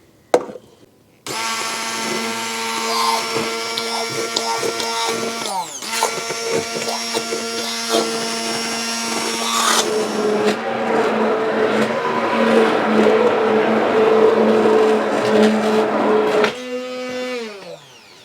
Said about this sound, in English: the apples are completely pureed